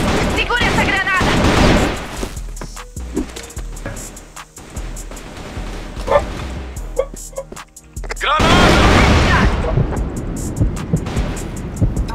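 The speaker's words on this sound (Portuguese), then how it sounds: "Segura essa granada!" Grenade blast and gunfire in an AK-47 ranked shooter match, with loud booms and bursts of rapid shots rising and falling over several seconds, mixed with game noise.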